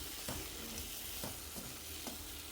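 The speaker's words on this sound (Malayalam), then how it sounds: "ഒന്നുകൂടി ഇളക്കി കൊടുക്കുക" Crab curry simmers in a pan on low flame, with a soft, steady sizzle and a few scraping stirs at a slow, even pace, heard quietly and with no voices.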